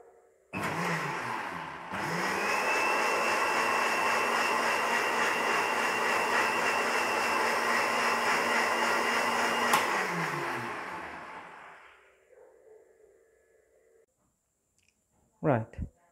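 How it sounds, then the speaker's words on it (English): A 250-watt blender powered by a cheap 12V 1000W pure sine wave inverter whirs loudly and steadily for about ten seconds after a brief start, then spins down and stops, followed by a couple of faint clicks. "This blender here is 250 watts."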